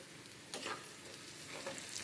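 Curry leaves and onions fry in a pan with a soft, continuous sizzle, a few crackling bursts rising briefly as the leaves hit the oil.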